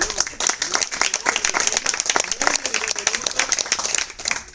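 Audience applause at a museum event in Ariano nel Polesine, a dense stretch of crisp, overlapping hand claps from a room full of people, steady and fairly close, with a voice speaking over it.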